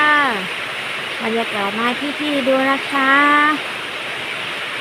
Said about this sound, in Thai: บรรยากาศวันนี้ฝนตกค่ะ ตอนเช้าฝนตกค่ะ